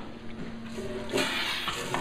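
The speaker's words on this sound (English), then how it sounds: "Low pressure water." Low-pressure water from a second pump gushes steadily through a gold clean-up sluice box, a continuous splashing rush that swells slightly partway through, alone with no talk.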